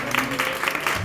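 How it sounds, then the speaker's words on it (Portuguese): A church congregation claps together during a service, a short burst of rhythmic, roomy hand claps with a few voices mixed faintly underneath. "Aplauda o Senhor."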